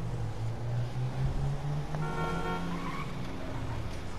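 A car horn honks in a street, a short steady toot rising over the hum of a running engine and traffic, with no talking during it.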